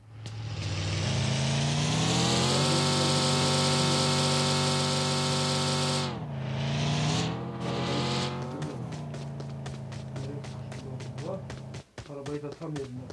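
A car engine drives in the video game PUBG on the Miramar map, with a loud sustained revving drone that rises and falls in pitch and then turns to choppy bursts. Players talk over it.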